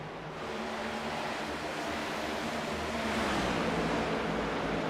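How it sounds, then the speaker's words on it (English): Race car engines roar continuously in a stock car cup racing video game at the Lone Star 400, a dense steady drone whose pitch drops as cars sweep past, with no talking. "I just love the sound of these engines, man. You can just hear them going around."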